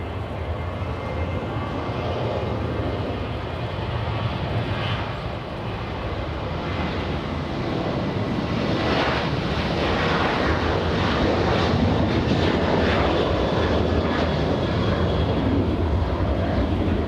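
Airplane taking off at LAX airport, a loud sustained jet roar that swells and builds over many seconds, heard from nearby with no talking.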